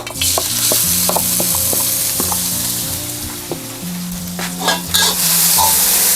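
Thai curry paste stir-fried in about a tablespoon of oil for a curry with eggs and cumin leaves, a loud steady sizzle with repeated scraping strokes of a spatula against the pan, continuous and close, no voices.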